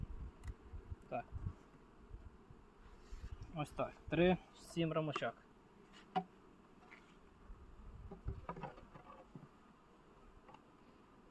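Honey bees hum continuously in the background while a beekeeper talks up close, with occasional handling noises of hive frames.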